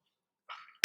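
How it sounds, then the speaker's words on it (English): A single sharp cough bursts out after a soft, brief throat sound, close to the microphone. "I had a little bit of a coughing fit."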